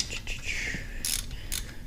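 A ratchet works a half-inch alternator bolt loose on a 1964 Dodge Custom 880, making quick clicking pawl bursts and brief metallic scrapes, close and fairly quiet, with gaps between strokes.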